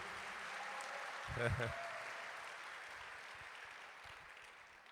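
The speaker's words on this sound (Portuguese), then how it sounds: "Quem recebe aí, pode dar um aplauso ao Senhor" A church congregation at a family service gives a sustained wash of applause, fairly faint and distant, with a voice speaking briefly over it partway through.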